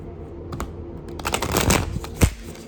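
Self-care oracle cards being shuffled and drawn by hand, a soft papery riffle of quick slaps that builds in the second half, ending in a sharper flick, close and fairly quiet.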